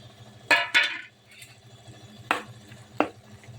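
Ground masala of cinnamon, clove, ginger, garlic, mint and tomato is stirred in a pan: a few sharp scraping clinks of a spoon against metal over a low, faint frying hiss.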